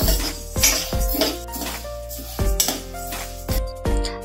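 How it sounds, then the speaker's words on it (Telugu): Urad dal dry-roasting in a thick pan, with a metal spoon clinking and scraping against the pan in repeated bursts, close and fairly loud. "ఒక మందపాటి బౌల్ తీసుకొని 2 కప్స్ మినపప్పు వేసుకొని బాగా వేయించి"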